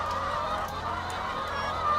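Many egg-laying birds in poultry housing make a continuous crowded chorus of clucks and honk-like calls, moderately loud and close, without a break.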